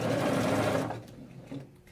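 A sewing machine backstitches at the start of a seam, a steady close whir for almost a second that then stops, leaving a short quieter stretch with a small mechanical bump near the end.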